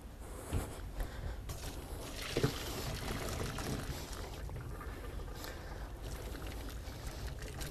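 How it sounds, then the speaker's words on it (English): Cooked noodles drained in a drainer at a kitchen sink, with a steady close rush of pouring water and a few brief splashy bursts throughout. "Taking it to my drainer by the sink and draining it off."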